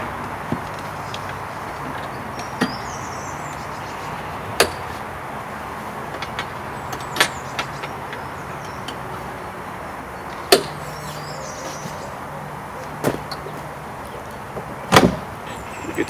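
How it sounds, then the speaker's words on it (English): Sharp isolated clicks and clacks of latches being fastened on a Land Rover Defender pop-top camper roof, several spaced snaps over a steady outdoor background hiss. "Put the latches on."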